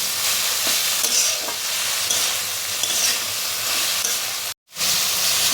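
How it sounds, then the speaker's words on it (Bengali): Potato being stirred into onion, oil and salt in a hot pan, with a steady, close frying sizzle and scraping stir strokes running throughout, briefly cutting out near the end before resuming. "এটাকে পেঁয়াজ আর তেলের সঙ্গে ভালো করে মিশিয়ে নিচ্ছি।"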